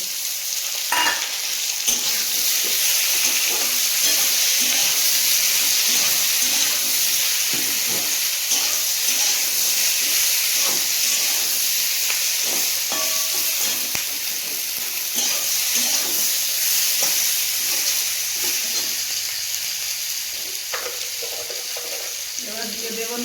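Raw tomato, onion and green chilli go into a hot pan and sizzle loudly and steadily throughout, a dense frying hiss broken by stirring scrapes and occasional spatter pops.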